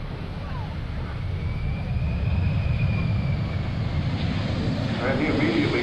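A large airplane roars loudly and continuously as it slows on the runway at an air show, engines in reverse thrust, with a faint rising engine whine over the rumble.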